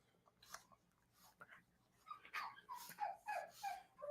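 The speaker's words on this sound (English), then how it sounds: "look at this dog. He's just all wild and shit" A restless dog whines and whimpers in rising, wavering cries during a live stream, close by, with soft breathing and scuffling between the calls.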